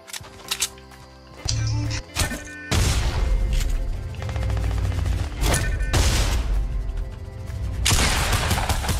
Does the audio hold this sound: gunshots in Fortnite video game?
yes